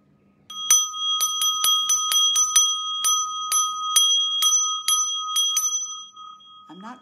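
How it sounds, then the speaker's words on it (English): A small bell is struck again and again in an uneven rapid rhythm, its bright metallic tone ringing on and slowly fading at the end. "perhaps maybe let's ring another bell"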